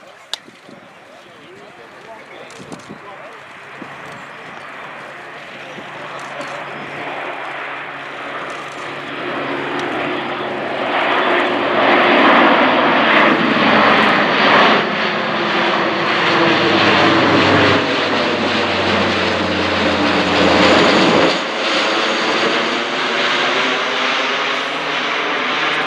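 Airbus A400M Atlas military transport arriving at the RIAT 2014 air show, its turboprop drone growing from distant to loud and close and holding there for about ten seconds before it eases off. Crowd chatter runs faintly underneath.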